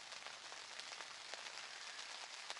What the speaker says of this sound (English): And the rain is drumming.